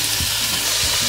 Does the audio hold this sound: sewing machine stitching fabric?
no